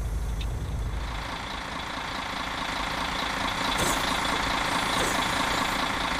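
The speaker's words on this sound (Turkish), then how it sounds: "Otobüsün arkasında felaket ses var." A loud, steady bus engine drone from the rear of a bus in a video game, with low rumble filling the whole stretch, like a heavy vehicle idling close by, with a brief hiss partway through.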